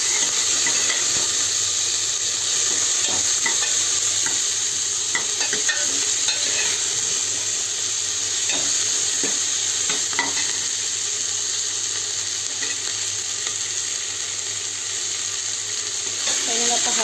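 Onion, tomato and ginger fry steadily in oil in a pan for making an arbi (taro root) curry, giving a continuous sizzle with occasional stirring scrapes and no voices.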